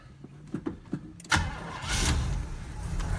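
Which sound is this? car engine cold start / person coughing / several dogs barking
car engine cold start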